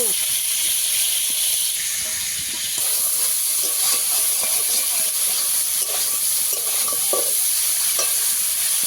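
Cauliflower pieces frying in oil with salt and turmeric, stirred in a pan: a steady bright sizzle throughout with scraping spatula strokes at intervals, close and fairly loud.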